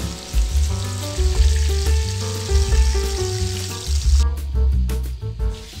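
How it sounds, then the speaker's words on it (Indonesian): Flour-coated marinated shrimp frying in oil over medium heat, giving a steady, close, continuous sizzle with tonal sounds running underneath. "Baru setelah itu kita goreng sampai berwarna kuning keemasan."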